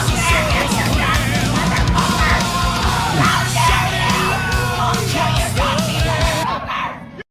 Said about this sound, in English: There's always a crazy woman screaming her head off